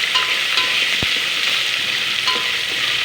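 Potato, carrot and onion fry in a pan in a continuous loud sizzle, with a few light metallic taps from a stirring spoon against the pan.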